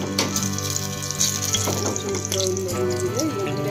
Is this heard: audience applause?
no